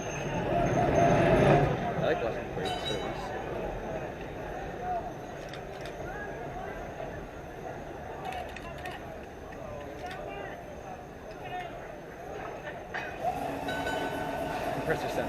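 Air compressor aboard Pittsburgh Railways trolley car 4145 at a trolley museum, running as a steady throbbing rumble for the whole stretch, louder at the start and again near the end, amid outdoor background noise.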